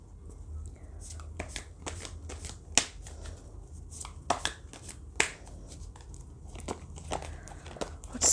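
Oracle cards being shuffled by hand, a run of crisp riffling snaps and soft card slides, close and fairly quiet, with faint speech in the background.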